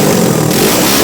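A homemade kart powered by a Suzuki GS 500 motorcycle engine revs hard, loud and close, a dense continuous roar filling the whole brief moment.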